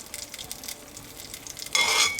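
Chopped onions go into a hot cast iron skillet beside smash burgers and sizzle, with quiet scattered crackling at first and then a sudden loud, steady hiss as they hit the oil.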